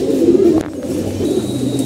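A pigeon cooing with a low throaty warble, close and fairly loud, in two short phrases with no speech.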